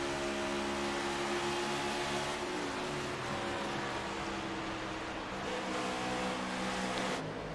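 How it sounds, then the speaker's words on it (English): A stock-style race car in a sim racing league event at Texas Motor Speedway comes off turn one, its engine droning steadily with the pitch shifting as it clutches in, a continuous faint mechanical roar with no talk. "Listen to how the car clutches in."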